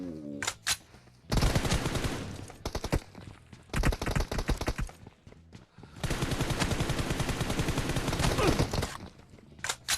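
Automatic gunfire from the mobile battle-royale game PUBG Mobile in a one-on-one match, with loud sustained bursts of rapid shots in several long volleys separated by brief pauses and a few single shots.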